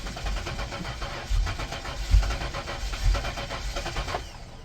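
A fuel-injected front-wheel-drive racecar engine cranks over with a rhythmic chugging starter churn, lifting into several louder pops and surges without fully catching, heard up close with no voices.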